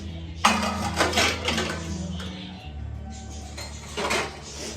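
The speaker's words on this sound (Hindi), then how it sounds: "सारे बर्तनों को यहाँ लगा रही हूँ" Kitchen utensils and dishes are put away and arranged at home, giving close clinks and metallic clatters in several bursts with softer handling sounds between them.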